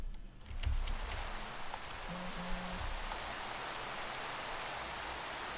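Rain falling at night in Minecraft with the Forgecraft modpack, a steady soft hiss of rainfall throughout, with a brief low exclamation from a voice near the start.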